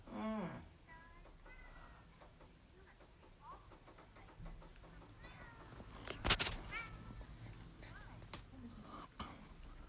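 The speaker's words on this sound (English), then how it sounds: "2 or 3 of them meowing at once and that." Several Savannah cats meow indoors, overlapping short, faint cries scattered across the recording, with people talking quietly in the background and an occasional louder bump or clatter midway.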